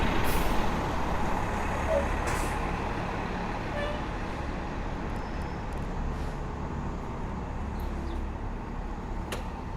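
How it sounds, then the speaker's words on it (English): Buses and trucks moving through downtown Toronto city traffic, a steady loud broadband rumble of engines and road noise throughout, with brief hissy bursts like air brakes releasing near the start and faint higher tones later. "All these buses."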